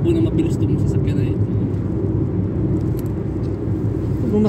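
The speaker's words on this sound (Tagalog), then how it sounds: "Ngayon ako nakakita na tumatakbo na mabilis itong sasakyan na" A car moving fast fills the space with a steady, loud, low engine and road rumble that continues without a break.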